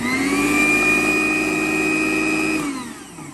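A Teccom Japan electric meat grinder runs with a steady, close-up motor whine and hum that holds even for a few seconds, then winds down and fades near the end.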